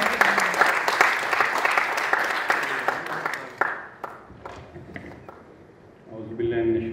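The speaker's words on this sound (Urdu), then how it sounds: "آپ کی تالیوں کی گونج میں" An audience bursts into loud applause to welcome a speaker at a motivational talk on Allama Iqbal, with dense clapping that thins out and fades before a voice returns near the end.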